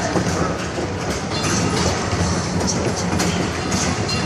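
A ride-on train in a shopping mall rolls along with a steady, loud rattle and rumble of wheels and cars throughout.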